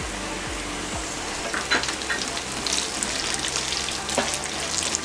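Onion bulbs cut into petal-like pieces sauté with garlic in a pan over high flame for a Chinese garlic chicken dish, giving a steady close sizzle with crackling bursts and occasional stirring clinks, no talking.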